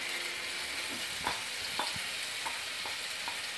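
Onion seed and garlic paste frying in a hot kadhai on a gas stove, a soft continuous sizzle with a few brief stirring scrapes and taps, close and fairly quiet, no talking.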